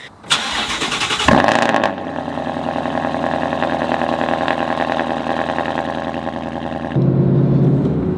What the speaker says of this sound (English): let's get a cold start up and go pick the Lexus up